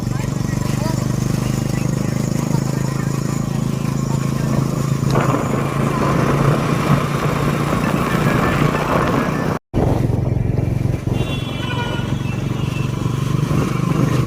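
A motorcycle rides along with a steady, close engine drone and wind rumble, setting out on a trip, with brief clatter near the end.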